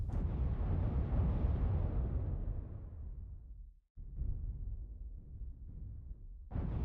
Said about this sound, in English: And here comes the missiles.